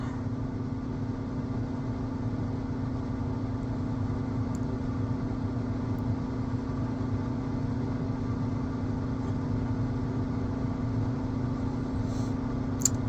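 A John Deere X9 combine's engine runs in a low, steady drone while its machinery folds, a constant rumble with only faint mechanical ticks and no voices.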